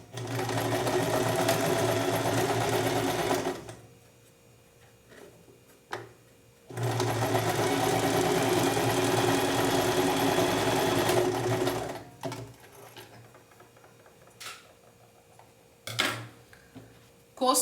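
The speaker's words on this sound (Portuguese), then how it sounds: "Costurei, tá? Costurei no pontinho reto." Sewing machine running a straight stitch through panty fabric, two long steady bursts of rapid stitching with quiet pauses, small handling clicks and taps between them.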